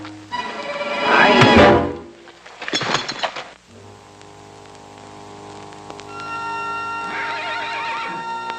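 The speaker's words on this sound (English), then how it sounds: "The horses are loose. Yeah, they're coming this way, Hoppy." A horse whinnies loudly, then a second shorter whinny follows as loose horses run, over a steady musical backdrop with a thud in between.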